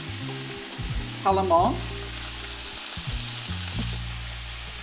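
Sprouts, broccoli and cabbage sautéing in a pan with a steady close sizzle and brief stirring clatter; a voice is heard briefly.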